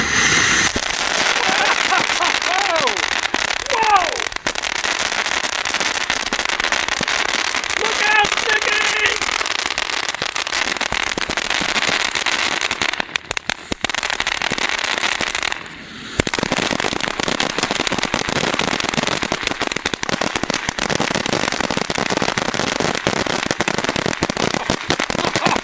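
The Noisy Glitzy firework from Sunwing Fireworks' 2026 range spits a dense, continuous storm of crackles and small pops for nearly half a minute, loud and close, with one brief lull partway through.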